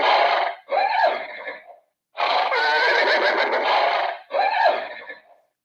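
Neighing sound effect from a model railroad horse car: three loud, close horse whinnies, each a quavering squeal that breaks into a falling shudder, separated by short silences.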